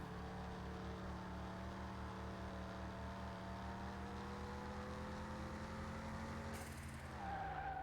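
A Golf R drives a track in Car Mechanic Simulator 2021, its engine droning steadily with a sustained whine and tire noise, then shifting pitch near the end.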